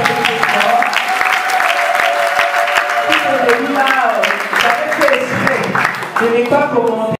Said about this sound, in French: Applaudissez encore pour cette question.